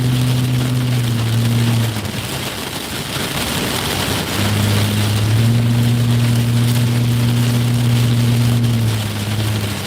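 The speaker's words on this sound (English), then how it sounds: "but it is raining pretty hard" Heavy rain pounds a car during a storm chase through a flood-emergency and tornado-risk storm line, a loud steady wash of hiss for the whole stretch, with a low droning engine hum rising and dipping underneath.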